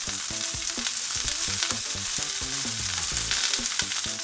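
Broccoli and teriyaki chicken sizzle on a flat-top griddle, a loud, continuous frying hiss with scraping and stirring noises from a utensil.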